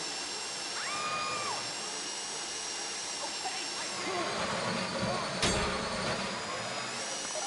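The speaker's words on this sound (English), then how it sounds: "That drill got another gear?" A power drill grinds into a safe during a heist in GTA 5, a steady high whine running throughout with short shifts in pitch, faint clicks and a sharp burst near the end.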